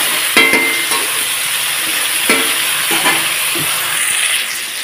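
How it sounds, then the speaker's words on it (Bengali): Spices and salt fry in a hot pan with a steady bright sizzle, broken by a few sharp clinks and scrapes as they are stirred, with no voices. "এটা এখন ভালোভাবে একটু ভাজা ভাজা করে নেব।"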